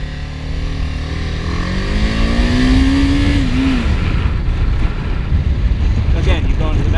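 A motorcycle engine revs up and changes pitch as it shifts into second gear, the rising tone ending in a sharp drop, heard close with steady wind and road noise.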